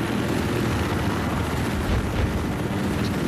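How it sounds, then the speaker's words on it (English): Steady, loud rotor and engine roar of an enemy helicopter overhead during an urban Battlefield Hardline match, a continuous drone with no talk over it. "First I heard, enemy chopper's up."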